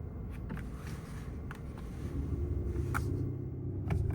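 An 816-horsepower Mercedes-AMG SL hybrid pulls away in electric mode with a quiet, low rumble that swells slightly as it gets moving, with no engine roar.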